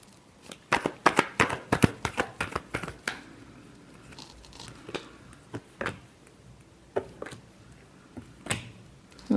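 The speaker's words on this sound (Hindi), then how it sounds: "Last shuffle." A deck of tarot cards is shuffled close by, giving a quick run of crisp riffling snaps and flutters that slow into sparser, separate slaps and clicks.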